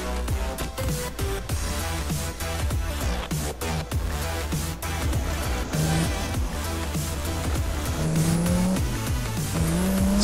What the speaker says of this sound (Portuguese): Vou até pegar aqui um veículo aqui pra ir até lá.